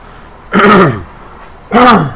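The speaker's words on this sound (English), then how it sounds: "Sorry, I had to clear my throat." Two distinct throat clearings, close and fairly loud, separated by about a second of quiet.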